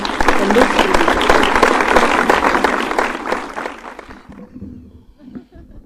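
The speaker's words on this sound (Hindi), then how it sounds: "एक बार जरा जोरदार तालियां बजाकर आप दीपक पारिक की अगवानी करें।" Loud, sustained audience applause greets poet Deepak Pareek at a Hindi kavi sammelan, with dense clapping and some laughter that thins and fades toward the end.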